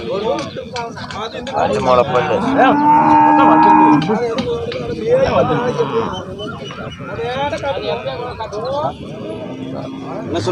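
Cattle moo loudly at Puliyampatti livestock market, several drawn-out calls rising over a busy crowd, with people talking nearby throughout and occasional clip-clop of hooves.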